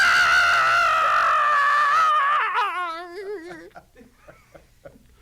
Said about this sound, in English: I could just scream.